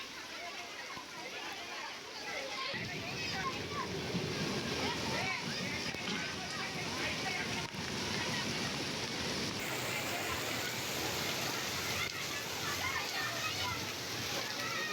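Knee-deep monsoon floodwater on streets in Kalwa, Thane, sloshes and splashes continuously under a busy wash of noise, with distant voices, including children's, faintly audible.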